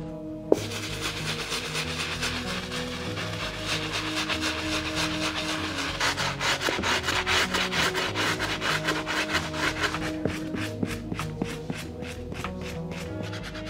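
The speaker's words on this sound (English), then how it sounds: "we're gonna grab our stiff bristle brush and take care of this outsole" Stiff bristle brush scrubbing the outsole of an Air Jordan 4 Black Military sneaker, a steady close rasping rub with rhythmic back-and-forth strokes that quicken toward the end, no talking.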